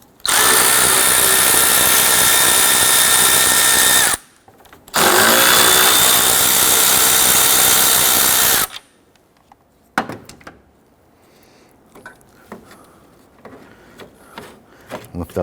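A power tool loosens the 10mm grille bolts on a 1992-1996 Toyota Camry, with two loud, sustained whirring runs close by and a short pause between them, followed by quieter handling clatter.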